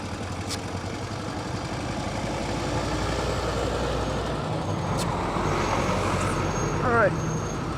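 A dense, continuous roar of heavy trucks and other traffic rolling past on a road in Porto Velho, Rondônia, loud and close with constant engine rumble and no letup.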